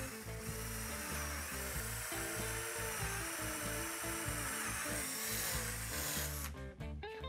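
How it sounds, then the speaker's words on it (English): A power drill with a bit just over a quarter inch bores through plywood, its motor whining steadily up close before a short burst of rattling as the bit breaks through near the end. "So I've got a drill bit that's just above 1/4 inch, a little bit bigger, and we'll drill that out."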